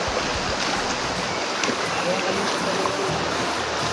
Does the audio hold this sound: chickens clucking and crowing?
no